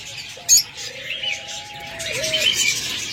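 Caged pet birds at a sale of budgerigars, cockatiels, doves and lovebirds, large birds kept in breeding pairs, give soft whistling calls and a sharp chirp near the start, with faint chatter from the other birds behind.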